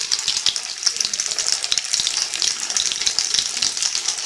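Veg cutlets frying in hot oil, a steady bright sizzle with crackling pops running continuously and fairly loud, close up, without talk.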